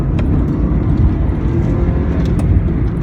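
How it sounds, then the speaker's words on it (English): A 2004 Subaru Impreza WRX hatchback with its turbocharged EJ20 engine pulls steadily while driving, a loud, continuous low engine drone with a faint turbo whine running throughout. "Turbo spool's nice."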